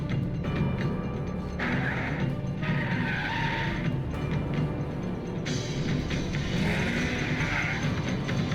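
A Ford Mustang drifts in an in-game advertisement in Alan Wake, its tires skidding and squealing in two sustained screeches over a steady engine roar.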